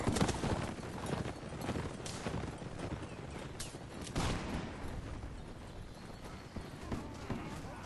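Cavalry horses charging in a Mount & Blade Warband battle: dense drumming hoofbeats mixed with scattered gunfire cracks and battle noise, steady and busy throughout, with shouting at times.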